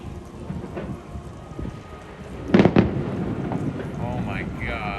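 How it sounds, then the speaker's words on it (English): Rain falls over Epcot as thunder and fireworks boom in a sharp cluster mid-clip, steady downpour hiss continuing throughout with faint voices in the background. "And it's raining."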